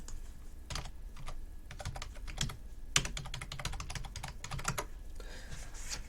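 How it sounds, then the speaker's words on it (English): Loud clacky computer keyboard typed in quick irregular bursts, keys striking close to the mic with one sharper hard hit partway through, no talking over it. "Everyone always makes fun of me for this keyboard. It's like so loud."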